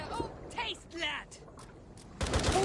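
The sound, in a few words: gunfire in a video game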